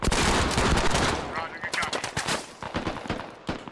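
Gunfire in the military shooter game Squad: a heavy opening barrage of rapid automatic shots, then scattered single cracks and short bursts that thin out toward the end.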